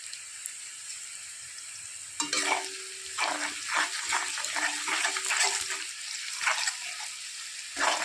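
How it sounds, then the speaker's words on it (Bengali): Onions frying in a pan with a little sugar and salt: a dense, crackling sizzle starts suddenly after a quiet moment and keeps going, with occasional stirring scrapes mixed in. "পেঁয়াজটা অনেকটা ভাজা ভাজা হয়েছে আর একটু ভেজে নেব লাল করে"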